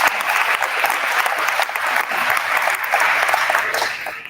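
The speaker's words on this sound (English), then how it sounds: "one more round of applause for our entire staff" A school assembly audience applauds for an 8th grade information event, steady dense clapping with slight swells, fairly close and continuous for several seconds without talk.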